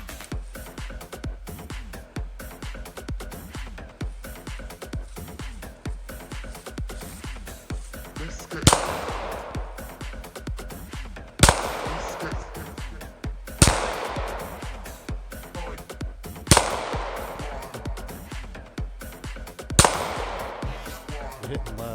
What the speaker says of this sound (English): Merrick's gonna shoot the Sig Sauer P320 9mm. He has 10 shots